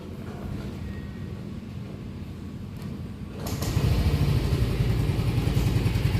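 A Yamaha scooter engine, a Vino-type 3NR unit, cranks and catches, then settles into a loud, close, steady idle with low throbbing pulses.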